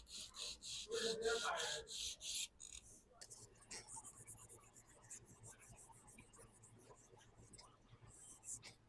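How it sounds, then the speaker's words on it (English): Cloth dampened with alcohol rubbed across an acrylic hot tub surface during crack and chip repair, giving soft, close brushing strokes that are busiest early on and then settle into lighter, quieter wiping. "I'll wipe it down with alcohol."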